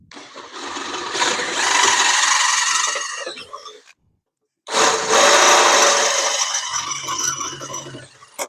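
A power drill bores holes in metal for a truck bumper on a trucker-themed mailbox: two loud whirring drilling bursts of about three seconds each, separated by a short silent pause, close up and alone.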